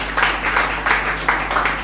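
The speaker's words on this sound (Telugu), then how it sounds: "అర్థమవుతున్న వాళ్ళందరూ గట్టి చప్పట్లు కొట్టాలి." Children clapping hard together during a Christmas lesson, a loud sustained patter of many small hands in a room, with slight rhythmic surges over a low steady hum.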